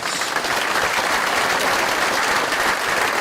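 Steady, dense applause from a crowd at a high school athletic awards ceremony, continuous and even throughout with no break.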